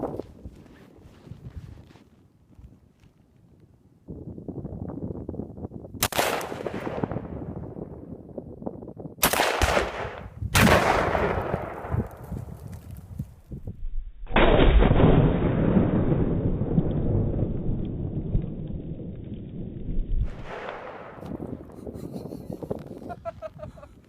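New rifles fire at Tannerite set about 100 yards away and covered with old barn boards in cold weather outdoors, giving several sharp, loud shots and one big booming blast that rumbles and echoes away, with people talking between them.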